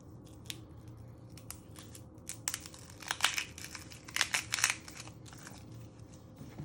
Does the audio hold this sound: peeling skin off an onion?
yes